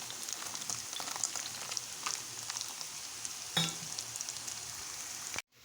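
Bitter gourd pieces with fried chickpeas fry slowly in a pan, giving a steady, moderately quiet sizzle with scattered crackles and one louder knock before it cuts off.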